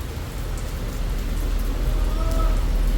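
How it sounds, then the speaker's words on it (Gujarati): Steady rain pouring outside an office in Noida, a dense continuous patter with scattered individual drops, fairly close and even throughout, with no talking. "વરસાદ ચાલુ થઈ ગયો છે અહીંયા"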